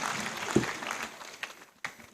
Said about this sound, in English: Please, a big round of applause for His Lordship,